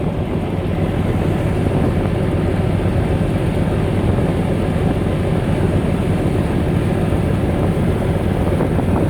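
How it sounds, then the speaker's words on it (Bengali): The empty passenger launch MV Farhan passes about 10 to 20 yards away on the river, heard from aboard another launch as a loud, unbroken engine rumble and wash roar. "দেখেন কিভাবে আমাদের লঞ্চকে অতিক্রম করে।"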